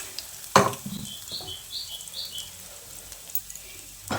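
Curry leaves and tempered spices are mixed into hot oil, a faint crackle and sizzle with a sharp utensil clack near the start and light scraping stirs, close and quiet.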